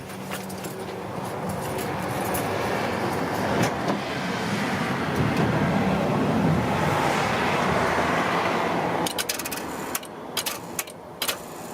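A car with a dead 12V battery is cranked in an attempt to start it, giving a steady loud mechanical drone that fills most of the stretch before cutting off, followed by a few scattered clicks and knocks.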